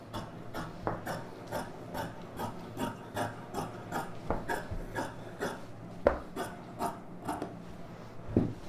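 Scissors cut through chudidhar lining fabric to shape a collar neck, giving a close, steady series of soft rasping snips and rubs with no talking.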